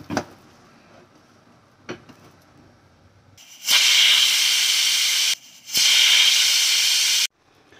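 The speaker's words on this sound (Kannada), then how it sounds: "ಈ ಟೈಮಲ್ಲಿ ಕುಕ್ಕರ್ ಮುಚ್ಚಳ ಮುಚ್ಚಿ ಒಂದು 4-5 ವಿಷಲು" A pressure cooker of navane sabakki masala kichidi vents loud, steady bursts of hissing steam as it whistles, two long blasts separated by a short pause, after a few quiet knocks.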